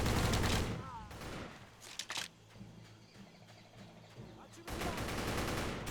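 Type 100 submachine gun bursts rattle in Battle for the Pacific, with rapid automatic fire at the start and end and scattered shots in a quieter middle stretch, loud and close.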